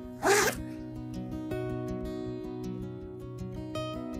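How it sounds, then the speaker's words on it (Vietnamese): A zipper on a Puma windbreaker jacket is pulled once in a quick, sharp rasp up close, followed by quieter background hum with faint clicks of the fabric being handled. "Đây, khóa của nó này."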